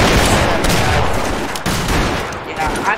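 Dense gunfire crackles in a Roblox Wild West raid on Fort Henry, a loud, continuous fusillade of overlapping shots with brief dips, close and harsh throughout.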